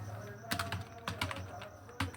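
Keys tapped on a computer keyboard while typing in Microsoft Word, a handful of quick, close clicks in uneven bursts over a low steady hum.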